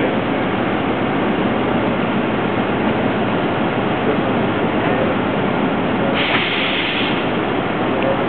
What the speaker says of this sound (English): These are the little trains that pull the larger ships through the lock.